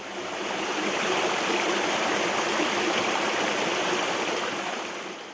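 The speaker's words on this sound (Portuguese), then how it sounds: "o único rio totalmente limpo do município de São Paulo" A clean river stream in a park in São Paulo's Curucutu area flows steadily, a continuous broad rushing hiss of water that stays even and moderately loud throughout, with no voices.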